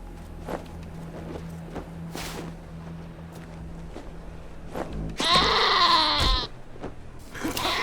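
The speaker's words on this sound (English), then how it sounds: "love that goat!" A goat bleats in the post-apocalyptic role-playing game Wasteland 2, a loud, wavering cry lasting about a second near the end, over a low steady hum and soft footsteps.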